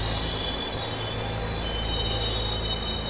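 A train rumbles steadily at a station, a dense continuous roar of wheels and carriages with a faint high metallic ring above it and no voices.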